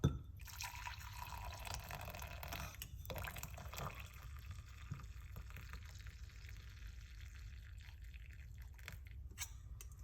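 Liquid pours steadily into a container, a continuous gurgling stream with faint drips, close and fairly quiet.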